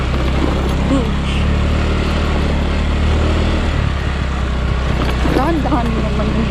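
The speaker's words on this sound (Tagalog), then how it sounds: "Dahan-dahan naman yung motor." A motorcycle rides along a road near a beach, with a loud, steady engine drone and rushing wind running throughout, while people talk over it.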